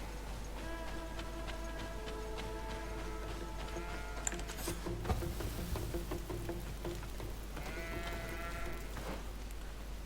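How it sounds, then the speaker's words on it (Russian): Goats in the video game GreedFall bleat in wavering, nasal cries, one long bleat near the start and another a few seconds later, over a constant low hum and scattered clicking game sounds. "Козы говорят мэ-мэ."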